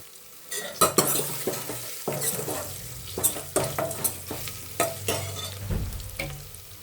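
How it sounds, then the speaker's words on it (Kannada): Sambar seasoning frying in a pan for a wedding-style dal sambar, with a steady sizzle under repeated clanks and scrapes of a spoon stirring against the metal pan. "ಇನ್ನು ಸ್ವಲ್ಪ ಚೆನ್ನಾಗಿ ಫ್ರೈ ಮಾಡ್ಕೊಬೇಕು"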